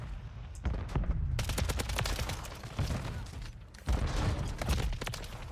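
WSP-9 submachine gun fire in Call of Duty: Modern Warfare III, with rapid automatic bursts in two long stretches separated by brief pauses, loud and close.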